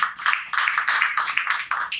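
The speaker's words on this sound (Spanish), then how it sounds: "Demos ese aplauso al Señor, por favor," Church congregation applauding during a Spanish-language service, with uneven, moderately loud clapping in rough bursts and a close, roomy sound.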